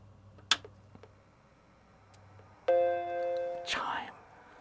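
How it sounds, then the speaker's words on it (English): Startup chime of a Macintosh Classic II just recapped and ultrasonically cleaned, one bright sustained chord ringing out clearly after a few clicks and thumps, followed by excited voices. "chime."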